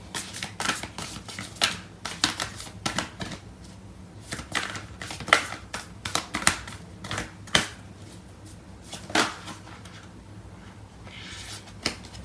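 Tarot cards being shuffled by hand, a series of crisp riffling and flicking bursts in an irregular rhythm, close and fairly quiet, with no talking.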